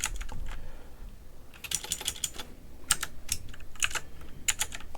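Fingers clatter on a computer keyboard in quick, uneven bursts of close keystrokes, with a short pause before the typing picks up again and continues.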